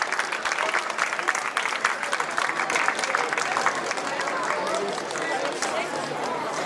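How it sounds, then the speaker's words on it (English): A school Model UN opening-day audience claps continuously, a dense, lively patter of many hands holding a steady level throughout. "Please welcome with a huge round of applause"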